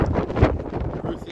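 Strong wind gusts across an open hillside during a hunt, roaring and buffeting the microphone in a steady, loud rush with a sharper blast near the start.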